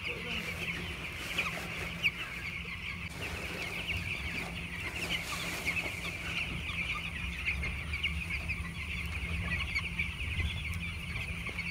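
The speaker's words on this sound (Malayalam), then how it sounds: "നമ്മൾ തീൻമേശയിലേക്ക് വരാൻ റെഡിയായിക്കൊണ്ടിരിക്കുന്ന കോഴിക്കുഞ്ഞുങ്ങളാണിത്. അവർ തീറ്റക്കായിട്ട് ഒത്തുകൂടുന്നു." Broiler chicks on a chicken farm gather for feed, making a continuous, fairly soft chorus of overlapping peeps and clucks.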